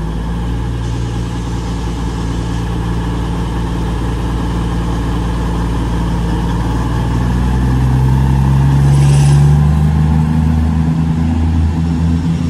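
A train engine idles at a station with a loud, close, deep continuous rumble that swells slightly toward the end, and no one speaks.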